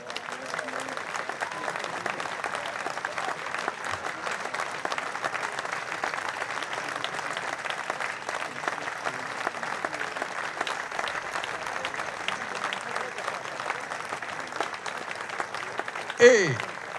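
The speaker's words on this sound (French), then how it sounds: "Je vous demande d'applaudir, à vous fendre les veines, Rhoda Scott" Jazz festival crowd in Sigean applauding an organist, a steady distant wash of clapping sustained throughout, fairly faint, with a brief louder bump near the end.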